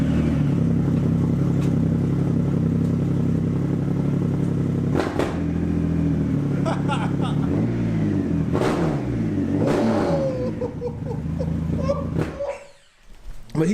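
A stock Indian Challenger motorcycle with an aftermarket exhaust idles loudly with a deep, steady throb, then blips and revs a few times before fading, with people talking nearby.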